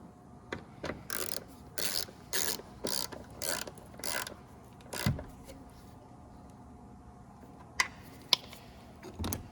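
A hand ratchet clicks in quick bursts while bolting an airbag impact sensor back into a 2013 Nissan Frontier, sharp close ratcheting strokes in a rhythmic run, then a pause and a couple of isolated clicks.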